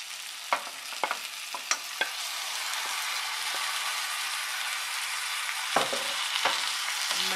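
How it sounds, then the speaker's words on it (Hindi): Mutton pieces go into a pan of hot oil with onion and ginger-garlic paste and are stirred, giving a steady, close sizzle with several sharp spoon-scrape clicks near the start and again toward the end, no voices. "अब मैं इसमें डाल रही हूँ मटन।"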